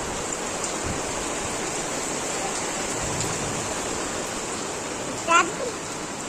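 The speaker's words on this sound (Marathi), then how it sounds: "खिडकीतून पडणारा पाऊस बघते" Steady unseasonal rain hisses evenly outside a window, with a short high squeal near the end.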